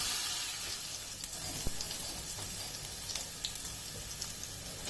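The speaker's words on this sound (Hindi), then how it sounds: "लहसुन और अदरक के पेस्ट को मैंने 2 मिनट तक फ्राई होने दिया।" Garlic and ginger paste frying in a pan, a steady low sizzle and hiss throughout with a few faint clicks and taps, no voices.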